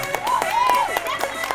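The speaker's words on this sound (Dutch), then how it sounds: "We gaan een geweldig applaus laten horen" A crowd at a youth national cyclocross championship in Helmond claps for the new national champion, a brief burst of dense applause with a voice heard over it.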